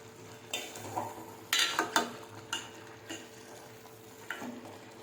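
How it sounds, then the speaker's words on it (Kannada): Cauliflower fries in a pan for curry, a soft steady sizzle under repeated clinks and scrapes of stirring against the pan, close by with no talking. "ಯಾವ ರೀತಿಯಲ್ಲಿ ಫ್ರೈ ಆಗ್ತಾ ಇದೆ ನೋಡಿ"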